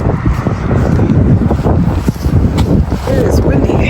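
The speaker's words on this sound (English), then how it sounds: "It is windy." Strong wind buffets the microphone outdoors on a rainy evening of food deliveries, a loud, constant low rumble of gusts with no break.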